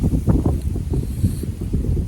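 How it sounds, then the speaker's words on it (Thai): Cold-season wind sweeps over open rice fields, buffeting the microphone in a continuous low, rumbling roar with no clear talk. "ลมคักจ้า"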